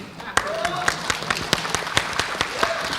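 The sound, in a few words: audience applauding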